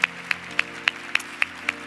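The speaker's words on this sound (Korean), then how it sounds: "우리 주님 앞에 다시 한번 감사와 영광의 박수 올려드리겠습니다" Clapping during a Sunday church worship service: seven sharp, evenly spaced claps, each about a quarter second apart, sound close and distinct over a low background hum.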